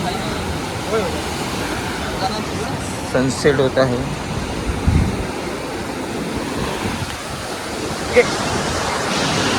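Sea surf washes steadily onto the shore at sunset during a Ganesh immersion outing, a continuous broad rush with wind buffeting the microphone and people talking over it.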